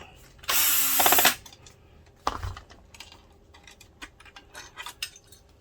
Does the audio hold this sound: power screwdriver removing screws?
yes